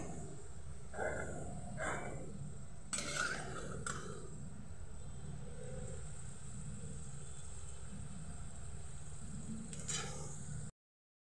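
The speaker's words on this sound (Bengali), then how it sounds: "এই সমস্ত পেঁয়াজটা আমি এবার তুলে নেব" A spatula scrapes and clatters in a wok a few times, lifting out fried onions, over a quiet, continuous background sizzle of frying.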